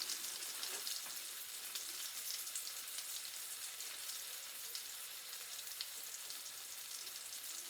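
A shrimp egg foo young patty fries in a pan, giving a soft, even crackling sizzle that hisses continuously and faintly at close range with no talking.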